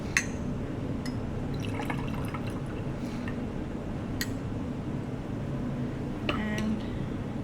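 Sulfuric acid is poured into laboratory glassware, giving soft liquid trickling and filling sounds with a few faint glassy clinks and drips, quiet and close.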